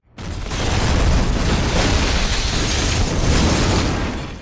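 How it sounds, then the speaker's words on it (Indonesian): A bomb blows apart a room in an action film, a loud sustained blast with a rolling roar and crackling debris that fills the whole stretch before fading at the end. "ledakan dahsyat meluluh lantakkan seluruh ruangan"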